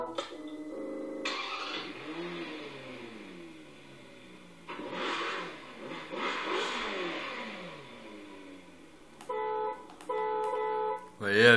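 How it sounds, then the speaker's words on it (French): Engine of a small remote-control toy car in Forza 4 cranks over and revs in rising and falling bursts, with someone talking over much of it and sharp electronic tones near the end. "Vous voyez, avec le moteur en plus."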